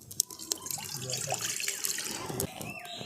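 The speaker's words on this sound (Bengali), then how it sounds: "কড়াটা দিয়ে দিচ্ছি জল" Water pours into a wok over a freshly lit stove, a short trickling, splashing flow with a few clinks of utensils, quiet and close.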